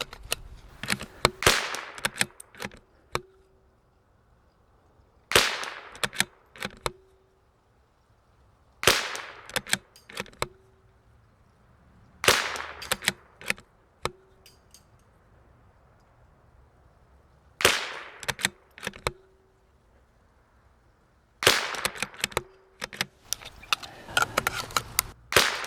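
Bursts of rapid sharp cracks from a CZ 457 rimfire rifle running its factory CZ extractor, fired in several quick strings separated by short pauses, loud and close with no talking.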